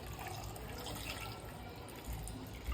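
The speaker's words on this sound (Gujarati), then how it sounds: "હવે આપણે એમાં નાખી દઈશું પાણી" Water poured into a pot of potatoes for boiling in a pressure cooker, a steady close splashing fill that runs continuously without break.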